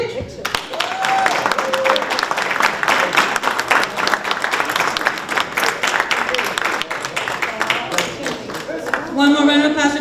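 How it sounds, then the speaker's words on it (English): A crowd applauds at a graduation ceremony hosted by NCCER and Lowe's for construction trainees, sustained loud clapping with a few cheers and a voice over a microphone mixed in, ending with a whoop. "One more round of applause for the Yunep."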